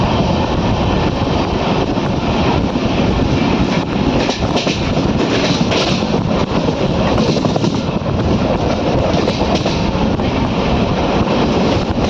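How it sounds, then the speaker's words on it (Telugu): The Ratnachal Superfast Express between Visakhapatnam and Vijayawada runs at cruising speed, giving a loud, continuous broadband rumble and roar of wheels and carriage that holds steady throughout without a break. "మన ట్రైన్ క్రూజింగ్ స్పీడ్ చూసుకోవచ్చు."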